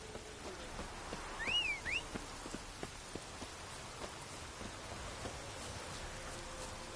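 Steady rain falls across a game landscape in The Witcher 3, a continuous hiss of drops with scattered louder patters, faint birdcalls briefly rising above it.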